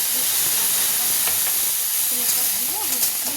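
Water poured onto vegetables sautéed with spices and turmeric for a thin fish curry sets off a loud, continuous steam hiss and sizzle, with faint stirring and a voice murmuring underneath.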